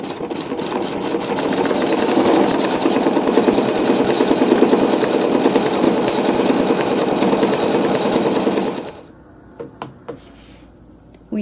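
An embroidery machine stitches a design on a quilt block, a steady loud mechanical whirring and rapid needle knocking for about nine seconds before it stops, leaving a few faint clicks.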